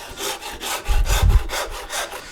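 A rasp carves a wooden guitar neck in steady back-and-forth strokes, about four per second. The scraping is close and dry, with one heavier, deeper stroke near the middle.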